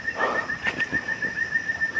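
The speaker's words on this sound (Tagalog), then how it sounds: "Ibon." A pigeon or dove coos softly a few times in an outdoor hillside farm setting, over a steady high whine and rustling background.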